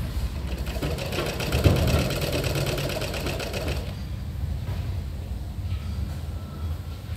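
Domestic sewing machine running steadily, stitching a half-inch seam along the bottom edges of a double-layer garment body, a close rhythmic whirr and needle chatter that softens after a few seconds but keeps going, no talk.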